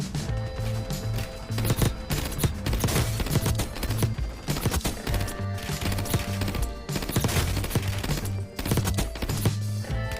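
An AEK-973 marksman rifle chambered in 7.62 with a 60-round magazine firing in Warzone Mobile, loud rapid bursts of shots broken by brief pauses, close and dominant with no talk over it.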